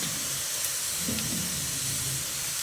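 Panch phoron spices fry in hot oil, giving a steady, close, even sizzling hiss that runs unbroken from start to finish with no talking.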